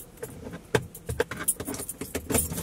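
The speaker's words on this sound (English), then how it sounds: "Can't get the key in the ignition." Car keys jangle and rattle close up as someone fumbles to fit them into a vehicle ignition, producing a steady run of metallic clinks and scrapes.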